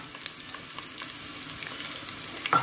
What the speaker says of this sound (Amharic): በመቀጠል ሽንኩርቱን እንጨምራለን።